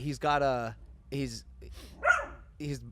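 A dog barks and yips a few times in a podcast studio, close and fairly loud, with people talking around the barks.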